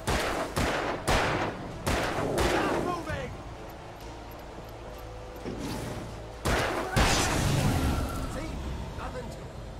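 Gunshots in Alan Wake Remastered during a confrontation with a big enemy, several loud separate blasts with echoing tails, spaced a second or so apart, with a short pause before a final pair of shots.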